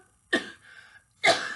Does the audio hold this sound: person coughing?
yes